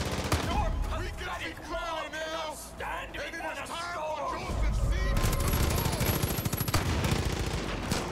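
Far Cry 5 gunfire, rapid bursts of automatic shots crackling over a busy game soundscape, with shouting voices heard along with the shooting.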